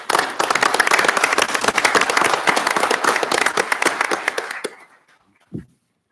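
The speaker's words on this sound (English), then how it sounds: "Let's give them a round of applause." Applause breaks out among attendees at a commission meeting, a lively burst of many close hand claps lasting about four and a half seconds, then fading to silence before a single dull thump.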